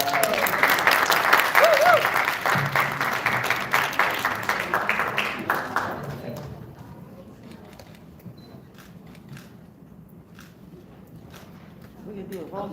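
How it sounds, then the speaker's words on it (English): An audience at the Detroit China Day event applauds with dense, lively clapping, strong for several seconds before thinning into a few scattered claps and low room murmur, with a voice speaking over the early part. "Give a round of applause, everybody."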